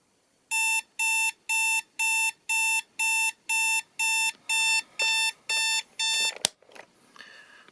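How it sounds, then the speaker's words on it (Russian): A SENS Clockwise Smoky digital desk clock with a wood-grain look sounds its alarm: eleven loud, evenly spaced electronic beep bursts about half a second apart, ending with a sharp click as it is switched off. "Сейчас сработает будильник."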